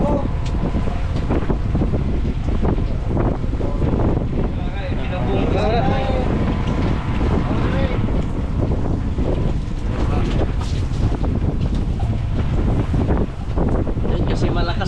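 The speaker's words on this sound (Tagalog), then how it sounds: "malakas na yung hangin mga kabisig at ulan" Strong wind roars steadily over rain aboard a boat, buffeting the microphone continuously with a dense, loud rush, while voices talk intermittently underneath.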